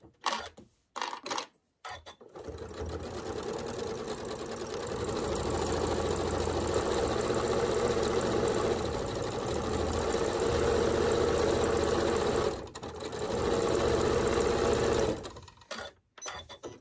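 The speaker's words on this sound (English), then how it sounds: "And I'm going to sew on my lead again." A sewing machine stitching a quilt block runs in a steady, even whir for about fifteen seconds after a few brief starts, close and fairly loud, with no talking.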